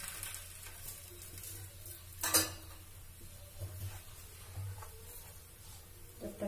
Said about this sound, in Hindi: पूरे तवा में अच्छे से घी लगा लेते हैं, लोहे का तवा है, पराठा से घी लगा दिया, पराठे को उसमें पलट दिए